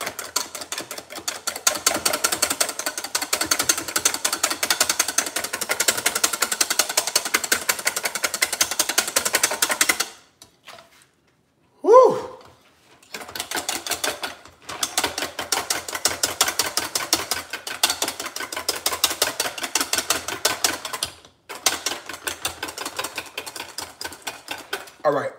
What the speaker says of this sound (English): I'm at the soft peak stage of whisking, which is when you get soft peaks from your cream